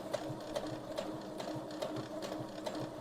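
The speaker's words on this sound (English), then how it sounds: "And we're just slowly sewing a straight stitch." A sewing machine runs slowly on a straight stitch, its needle ticking in an even, steady rhythm, close and clear, with no talking.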